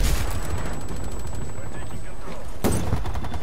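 Gunfire from an AMP 63 pistol in a shooter video game, a dense rapid rattle of shots under continuous game noise, with one louder burst near the end.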